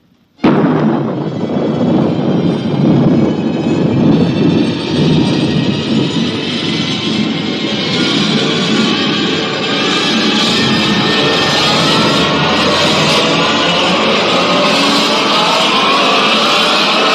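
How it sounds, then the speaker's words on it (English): A rocket blast-off effect from a radio drama starts with a sudden loud burst after a brief silence. It settles into a sustained roaring rumble with a rising hiss that holds steady for many seconds. "Countdown for blast-off"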